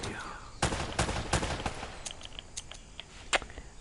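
Gunfire from the video game Uncharted: Drake's Fortune cracks in several loud, rapid shots early on, followed by scattered lighter clicks and pops at middle distance.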